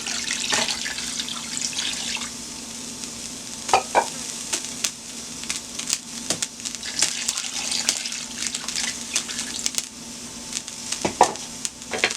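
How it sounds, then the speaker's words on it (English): A pot of garden egg (bitter ball) and green plantain, with seasoning and water, is stirred in steady scraping, splashing strokes, with a few sharper knocks against the pot over a constant low simmer. "Let's give that a stir."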